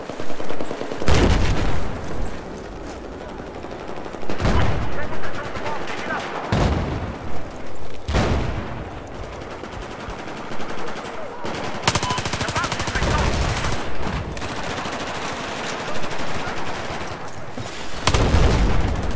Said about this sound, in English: A lot of fucking mortars.